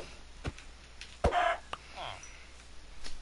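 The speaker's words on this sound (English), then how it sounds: "Chicken." A chicken in the video game Minecraft gives a short, fairly clear cluck in the middle, alongside brief talk and game noise.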